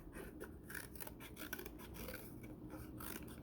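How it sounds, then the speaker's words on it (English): Scissors snipping through cardboard while cutting out monster face shapes, a quiet, close run of repeated rasping cuts with no talking. "when we're cutting shapes, we're keeping our scissors straight"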